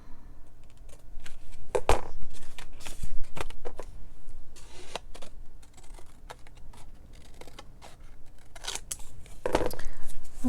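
Scissors cutting a movable paper tab for a Christmas craft project, a series of sharp snips and crisp paper rustles at close range, irregular and fairly loud with short pauses.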